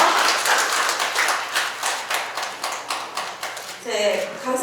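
Applause from the audience at a literary association's officer inauguration ceremony, honoring the secretary general who received an award plaque; steady clapping with a voice speaking over the end.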